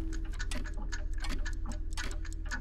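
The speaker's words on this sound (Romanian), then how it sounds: "Se aud numai ceasuri pe aici." Clocks tick steadily and evenly, close by and moderately loud, over a continuous low hum, with no voices.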